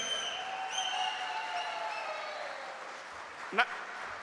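Conference audience at a union youth meeting clapping steadily in a hall, a sustained wash of applause with some murmured voices and whistling tones, fading slightly toward the end with a brief sharp knock near the close.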